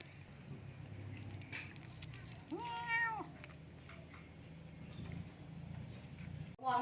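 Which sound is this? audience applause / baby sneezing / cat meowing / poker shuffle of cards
cat meowing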